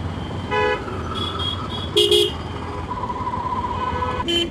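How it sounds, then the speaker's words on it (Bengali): Busy road traffic with engines rumbling and several short car horn toots, one longer sustained honk in the middle, fairly close. "আরে সব গাড়ি কি আজকে এদিক দিয়ে ঢুকছে নাকি?"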